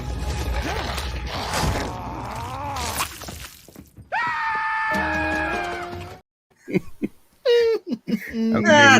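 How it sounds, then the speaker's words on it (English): A dramatic on-screen scream from an episode of the Loki series, loud and drawn out with rising and falling pitch, among other film sounds and voices. "I love that scream."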